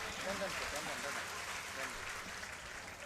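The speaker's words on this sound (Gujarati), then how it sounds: "જોરદાર તાળીઓથી વધાવે." A crowd at a Shreemad Bhagwat Katha religious gathering in Shedubhar, Amreli, applauds during a Nand Utsav celebration, a faint, steady, distant wash of clapping with a voice speaking over it.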